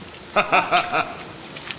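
Four short rounded bird calls in quick succession at Aguinod Beach, followed by a few fainter chirps against a steady hiss of background noise.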